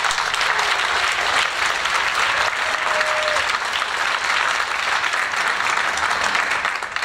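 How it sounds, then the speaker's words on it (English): Audience at a high school Tri-M music concert applauding the resident harpist, a dense, sustained round of clapping from a crowd filling the room, steady throughout. "How about another round of applause for our resident harpist?"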